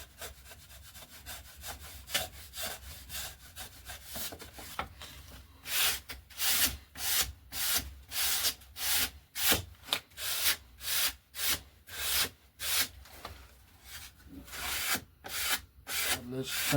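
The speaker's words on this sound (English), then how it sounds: "So now we've shaped, planed and sanded our leading and trailing edges." A wooden leading edge on the wing of an RC Coyote glider being sanded by hand: steady rhythmic back-and-forth rasping strokes, close and clear, faster and more regular in the second half.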